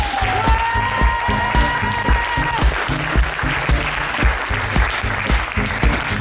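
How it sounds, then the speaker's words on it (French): An audience applauds at a French ceremony, a full, sustained round of clapping with a rhythmic pulse running throughout, accompanied by a brief tonal whistle early on. "Je vous demande d'applaudir Naomi Gauthier."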